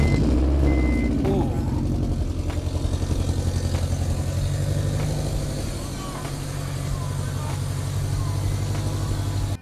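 A 2002 Honda Civic engine cold-starts and settles into a loud, close, fast-pulsing idle, with a rough chattering rhythm and some clatter, holding steady throughout.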